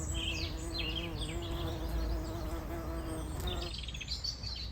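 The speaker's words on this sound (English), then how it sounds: "This particular bee was a little nectar tipsy." A bumblebee hums close by as it works sunflower blooms in autumn, a steady buzzing drone throughout with faint bird chirps behind and no talk.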